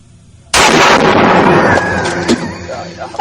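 A single sharp, loud gunshot at an outdoor shooting range cracks out suddenly and leaves a long, reverberating tail, with voices talking nearby.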